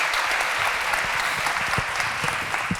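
Audience applause for a singer at a live event in Valladolid, steady clapping from a crowd throughout, with no voices over it.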